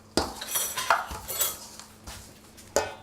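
A metal tablespoon scrapes and knocks against a whisk to clear off blueberry tart batter, a quick run of bright metallic clinks and scrapes close by, with a sharp final tap.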